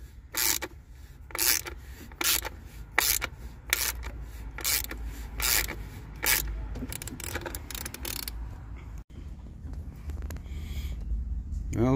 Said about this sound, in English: Just hacked right through it with my sharpest, flattest screwdriver I could find.